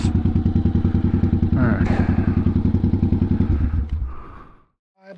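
A 1986 Honda Shadow 700 (VT700C) V-twin idles with a loud, rhythmic thumping beat that fades out as the engine cuts off after a gear clunk, with a brief spoken remark over it.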